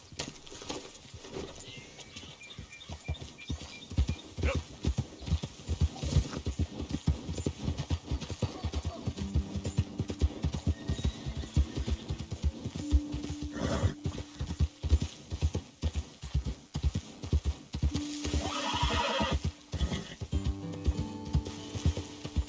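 In Red Dead Redemption 2, a horse gallops with a fast, steady clip-clop of hooves, joined by a loud whinny partway through and a jangle of tack, with no one speaking.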